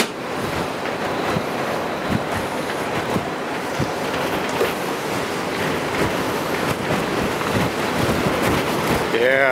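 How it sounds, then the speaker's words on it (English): Steady roar of wind gusting across an open cruise ship deck on a sea day, a dense continuous rush with surf-like swells, loud and close throughout, with faint voices underneath. "you could hear the wind whipping"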